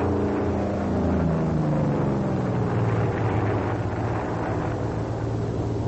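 A WWII F4U Corsair fighter plane's engine during a slow roll: a steady, loud propeller drone with shifting tone, heard alone through a narrow, old-film-quality recording.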